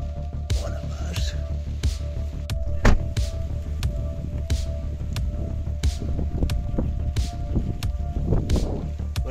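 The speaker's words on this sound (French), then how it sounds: "Ouais, c'est le vent." Strong wind during a storm-chasing drive amid thunderstorms in western France, a steady low rumble and buffeting with gusty surges, while excited voices talk throughout.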